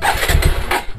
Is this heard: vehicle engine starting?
yes